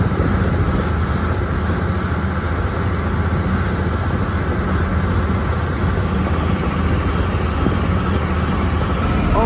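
An old tractor engine running steadily while working a field, a loud, constant low rumble and drone from inside the cab with no change in pace and no talking.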